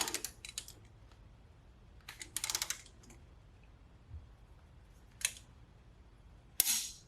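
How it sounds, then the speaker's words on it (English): A torque wrench tightens the top shock fork bolt on a 1992 Honda Civic hatchback with a B18C1 swap, giving a few sharp clicks and a loud snap near the end amid quiet garage ambience. "And we're torquing it to 32 foot-pounds."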